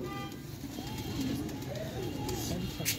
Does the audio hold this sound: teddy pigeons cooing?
yes